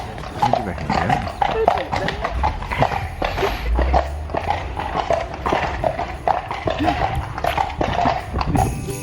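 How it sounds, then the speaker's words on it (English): Horses clip-clop steadily at close range in a busy outdoor setting, hooves beating in a loose repeating rhythm while people talk over them throughout. "Can you see the horses?"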